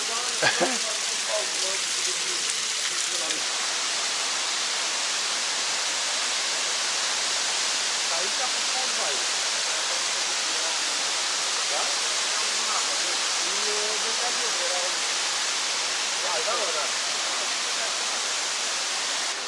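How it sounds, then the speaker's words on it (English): Small waterfall at the Kravica waterfalls, a steady broadband rush of falling water that fills the whole clip, with voices and crowd activity faintly audible beneath it. "There's even a small waterfall here."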